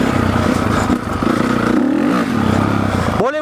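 A Honda CRF 450 dirt bike engine roars loud and close during a wheelie, a sustained throaty drone with shifting pitch before cutting off abruptly at the end.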